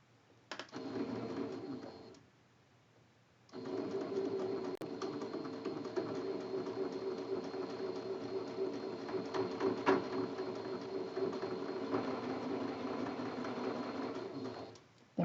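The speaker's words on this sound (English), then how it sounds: "I'm going to sew these 2 pieces together." A sewing machine stitches two quilt block pieces together for a Cotton Boll quilt block, a steady close whirring run that stops briefly near the start, then resumes and hums on evenly to the end.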